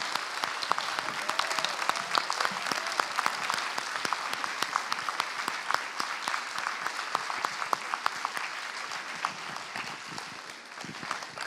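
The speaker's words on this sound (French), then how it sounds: "De faire un tonnerre d'applaudissements avec le peu d'énergie qu'il vous reste" An audience at a convention panel in Toulouse claps steadily and enthusiastically, dense applause filling the whole stretch without talk.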